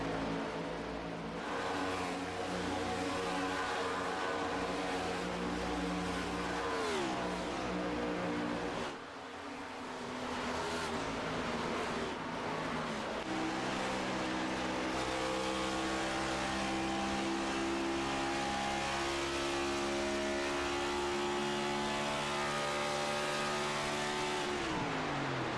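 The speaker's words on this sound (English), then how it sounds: "You can just hear how much he's having to baby that throttle coming through the corner so he doesn't lose the back end." Race car engine on a track, the driver feathering the throttle through a corner, with a loud buzzing drone that rises and dips in pitch as the revs are eased and rebuilt, sustained throughout.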